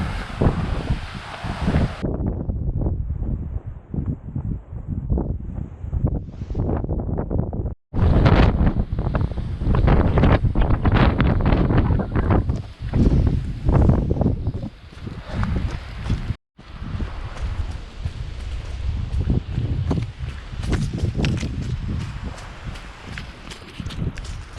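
Strong gusty wind buffets the microphone on an exposed hill during a trail run near Wellington, New Zealand, a loud continuous low roar with brief drops, footsteps faintly beneath and no talk.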